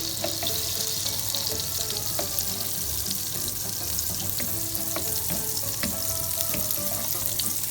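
Butter melting into olive oil in a pan for Parmesan gnocchi, a bright continuous sizzle and crackle with small pops and scrapes throughout, close and steady.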